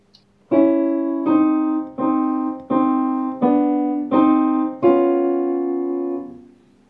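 A slow, simple piano melody of about seven evenly held notes, each sustained before the next, played alone and clearly with no voices.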